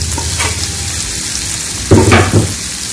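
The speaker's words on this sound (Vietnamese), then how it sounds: "Dầu sôi lên là mình sẽ cho cái phần hành tây với cái phần hồi nãy tỏi á" Onion and garlic sizzle and crackle loudly in hot oil, with a burst of fresh spitting near the end as something is stirred or added.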